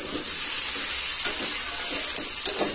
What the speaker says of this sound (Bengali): এবার আরও 2 থেকে 3 মিনিট ভালোভাবে নাড়াচাড়া করে নেব।